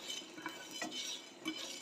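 Dry red chillies and coriander seeds are stirred while dry-roasting in a pan, with soft scraping and light clinking of a spoon against the metal, faint and close.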